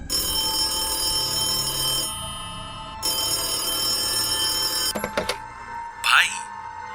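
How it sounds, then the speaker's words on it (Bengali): A telephone rings with steady electronic tones that break off and start again, then give way to a few clicks and a brief noisy burst near the end, with a voice speaking in the background. "কিছুক্ষণের মধ্যেই তার ফোন এলো।"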